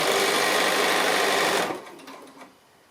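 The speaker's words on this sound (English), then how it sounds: "So just sewing close to the fold, making sure that the mesh is tucked up right inside that piece of binding." A sewing machine runs steadily and close up, stitching fabric binding near the fold over tucked-in mesh for a small pocket book, then stops abruptly partway through, leaving quiet handling sounds.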